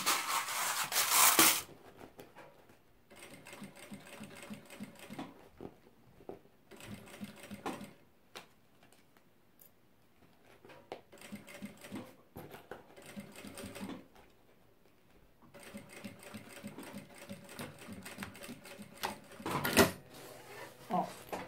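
A sewing machine stitches fabric for an organizer, with pins pulled out along the edge as the seam goes, running in repeated close bursts with short pauses between runs.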